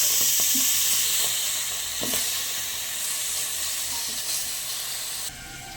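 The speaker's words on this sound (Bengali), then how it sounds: "কড়ার উপরে এবারে আস্তে আস্তে আমি টমেটোগুলো দিতে থাকবো।" Tomatoes go one by one into a hot kadai for a Bengali tomato bharta, raising a loud, steady sizzle with hissing steam and a few soft drops of fruit landing in oil, until the sizzle cuts off suddenly near the end.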